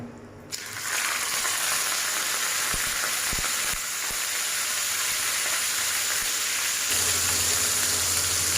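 Boneless chicken pieces hitting hot ghee over a low flame, bursting into a loud, steady sizzle that continues unbroken, with a few light clinks of a utensil.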